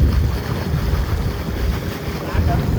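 Boat heading out of a creek toward the sea near Devgad, a rough engine rumble mixed with water wash and heavy wind buffeting the microphone, loud and continuous.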